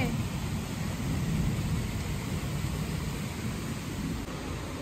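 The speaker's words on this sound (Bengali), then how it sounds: "কাজ করছিলাম আর জমজমিয়ে বৃষ্টি শুরু হয়ে গেছে।" Steady rain pours down through a heavy storm with thunder, a dense continuous rumble that stays loud and unbroken the whole time, with no pauses or quiet gaps.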